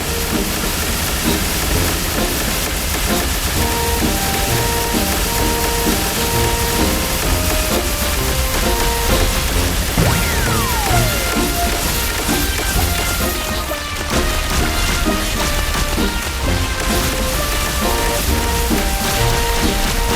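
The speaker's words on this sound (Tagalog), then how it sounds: "Parang galit na galit sa Aurora, napasabog ng skills." Aurora's skills spammed over and over in a mobile video game's practice mode, producing a dense, continuous barrage of crashing and clattering effects with layered tones, loud throughout.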